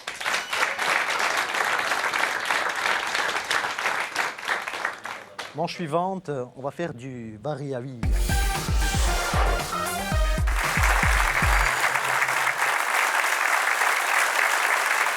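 Loud audience applause fills the opening seconds at a TV quiz show between the AS Niolu and La Poste teams, followed by a short musical jingle and then a host speaking over the background.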